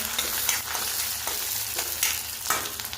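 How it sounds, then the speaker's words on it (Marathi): Curry leaves and green chillies sautéing in hot oil with onions and dal for upma, a close, continuous sizzle broken by several scraping stirs of a spoon against the pan. "हे परतून घ्यायचं"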